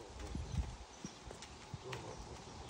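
Hooves of a ridden horse clip-clopping on the ground outdoors, a few soft irregular hoofbeats at moderate distance over faint background noise.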